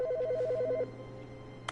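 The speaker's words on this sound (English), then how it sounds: "the phone's ringing" An old-style electronic telephone trills in The Stanley Parable, a rapid warbling ring lasting under a second before it stops, clear and fairly loud.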